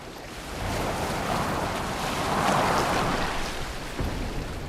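A sailing boat moves across the sea in the video game Assassin's Creed Valhalla, with a steady, even wash of water and wind rising slightly midway. No voices are heard.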